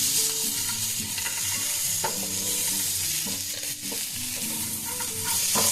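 Ground spices stirred in a hot pan, a spoon scraping and clinking in an irregular rhythm over a constant frying sizzle, close and steady, with no voices.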